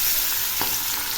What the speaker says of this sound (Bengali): এবার আমি মাছটা ছেড়ে দিচ্ছি।